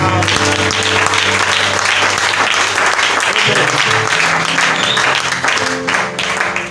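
A church congregation applauds loudly and continuously for several seconds, a dense wash of clapping with music and voices mixed underneath.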